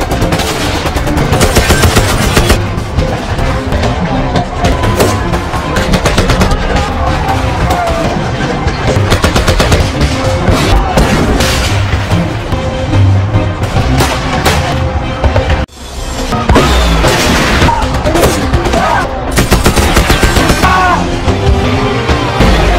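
Heavy-weapon gunfire rages in a film battle scene of Dutch attackers in the Bali interior: loud, dense, continuous machine-gun bursts and explosions with a brief break midway before the barrage resumes.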